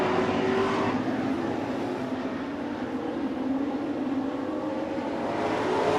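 Late model race cars roar past at Flamboro Speedway as the green flag drops, a dense, steady wall of engine noise from a pack of cars with a rising whine running through it.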